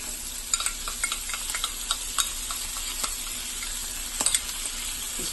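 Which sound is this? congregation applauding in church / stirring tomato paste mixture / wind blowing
stirring tomato paste mixture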